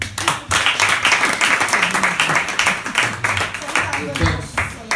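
An audience claps at a meet-and-greet event, a brisk, irregular patter of hands layered under a talking voice throughout.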